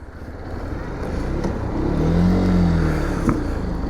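A SYM NH-X 125 motorcycle engine is wrung out hard to around 9,000 rpm in third gear, a loud, close rising roar that swells and holds before easing as the rider shifts up.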